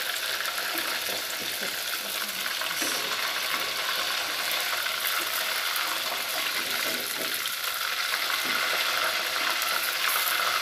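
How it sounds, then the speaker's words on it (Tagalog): Prawns fry briefly in a hot pan for a prawn curry, giving a loud, steady, dense sizzle that holds without pause throughout, with no talking. "Saglit lang po siya na prito para lang po maalis yung lansa."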